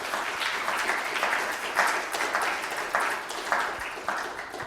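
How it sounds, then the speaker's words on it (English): Sustained audience applause for two presenters at a talk on Washington and slavery, a dense wash of many hands clapping steadily for several seconds in a hall, with no voices over it. "Can we have another round of applause for our two presenters?"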